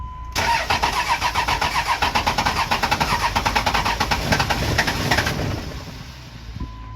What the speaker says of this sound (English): Another day, another cold start.